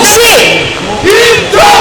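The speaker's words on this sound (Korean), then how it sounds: "박수!" A crowd at an outdoor election campaign rally in Yeongcheon public market shouts and cheers loudly in unison, with rising and falling chanted calls close to the microphone.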